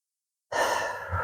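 A slow, breathy exhale during a breathing exercise starts abruptly after half a second of silence and continues steadily and close up, with no talking.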